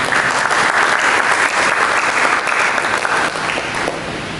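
A church congregation claps loudly and steadily, a dense wash of applause that holds for several seconds and eases slightly toward the end.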